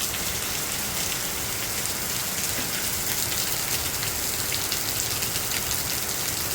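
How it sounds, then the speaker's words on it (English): Hail and heavy rain pound a Big Agnes Fly Creek ultralight tent in a dense, unbroken patter, close and steady for several seconds with no voices. "This is what my tent is going through. It just went through hail."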